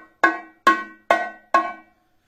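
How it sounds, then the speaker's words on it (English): A hand drum's high tone, struck with the fingers, rings out four times at an even pace, each stroke close, sharp and bright with a quick decay, and no talking. "Then we have the high sound."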